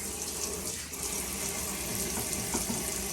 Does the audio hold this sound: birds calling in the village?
no